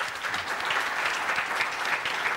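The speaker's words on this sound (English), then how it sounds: "round of applause?" An audience claps for a gentleman on stage, giving sustained, even applause at moderate level that fills the whole stretch without letup.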